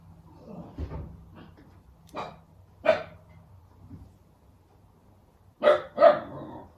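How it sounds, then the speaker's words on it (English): A dog barks in short, scattered bursts, a few single barks then a quick double bark, with quiet pauses between. "She's stopped barking now."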